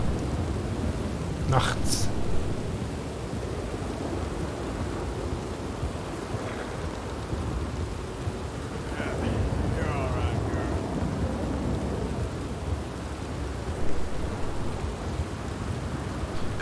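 Heavy rain falls at night in Red Dead Redemption 2 as a steady, broad wash of downpour hiss, with occasional louder gusts, while someone talks over it.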